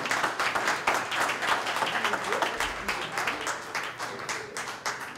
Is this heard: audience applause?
yes